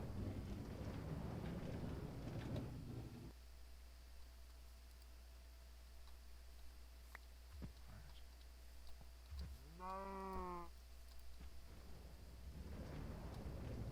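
A cow in a video game gives a single short, low moo, clear but brief against a quiet background of hiss and rumbling noise.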